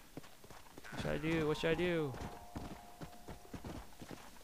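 Horse hooves clip-clop steadily in Red Dead Redemption, a quiet rhythmic patter running under a man's speech and a brief tonal call.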